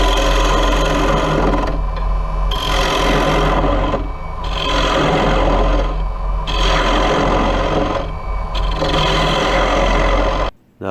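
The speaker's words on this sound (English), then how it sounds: "I'm just using a bowl gouge to hollow out the center of the bowl" A bowl gouge hollows a mahogany bowl on a wood lathe, giving loud rasping cuts in repeated surges that ease off between passes.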